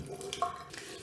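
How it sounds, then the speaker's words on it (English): Brief, soft splash and trickle of water poured onto a washcloth used for cleaning a leather handbag, heard close and quiet for about a second. "I put some water on my washcloth"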